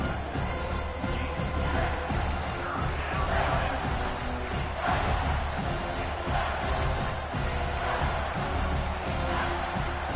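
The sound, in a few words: football stadium crowd noise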